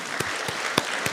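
A church youth congregation claps at a Sunday service; there are a few distinct, fairly close hand claps over a soft background of scattered applause, all within about a second.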